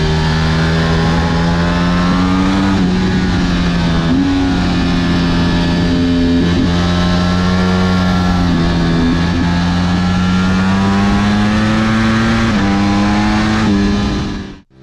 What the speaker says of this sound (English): That was the Ducati Panigale V4.